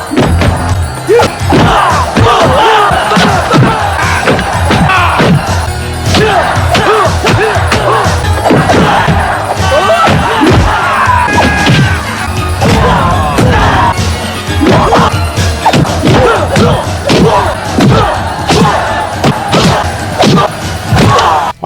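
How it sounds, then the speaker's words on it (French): Punches and kicks land in rapid succession during a fight in the film Kickboxer, a loud, dense run of thuds, whacks and crashes that continues without pause. "petite compilation de tous les coups que se prend Tangpo lors de ce combat"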